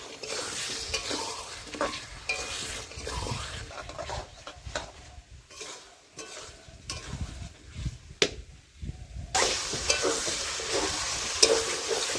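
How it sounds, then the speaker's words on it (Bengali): Ginger, cumin, garlic, green chilli and onion pastes fry together in oil for a spicy fish and potato curry. A steady, loud sizzle runs throughout with stirring scrapes, and it swells near the end. "এখানে আছে সব রকমের মশলা আদা বাটা জিরে বাটা রসুন বাটা কাঁচা লঙ্কা বাটা পেঁয়াজ বাটা একসঙ্গে দিয়ে ভাজি নেব"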